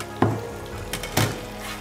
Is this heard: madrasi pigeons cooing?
no